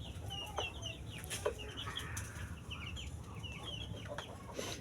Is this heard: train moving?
no